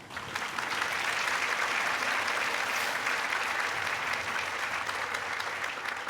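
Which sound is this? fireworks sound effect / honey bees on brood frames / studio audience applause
studio audience applause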